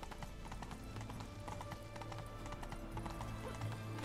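Roach the horse galloping in The Witcher 3: Wild Hunt, a fast, even clip-clop of hooves that runs continuously and close.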